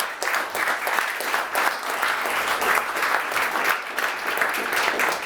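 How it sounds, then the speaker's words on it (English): Steady applause from a meetup audience in London, dense and continuous clapping filling the room for several seconds without pause, moderately loud and close. "Can we please give a round of applause?"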